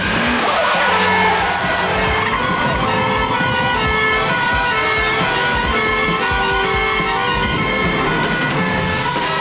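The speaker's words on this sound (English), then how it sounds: "To catch Ronnie and Reggie, the constabulary splashed out on S-types." A Jaguar S-type 3.8 police car skidding, with loud continuous tire squeal and engine roar throughout, close and sustained.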